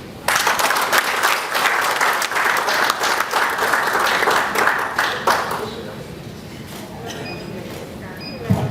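Audience applauding at an anniversary seminar in a hotel in Kitwe, Zambia, after a councillor's speech; dense, steady clapping for about five seconds, then thinning into scattered claps and room murmur.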